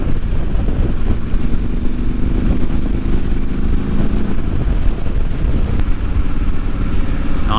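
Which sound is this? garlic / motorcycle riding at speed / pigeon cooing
motorcycle riding at speed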